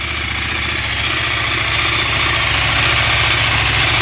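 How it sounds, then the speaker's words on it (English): A 2021 KTM 890 Adventure R motorcycle engine idles steadily and close, with the fast, even mechanical chatter of its cam chains running under the low rumble throughout. "You can hear the cam chains running right now."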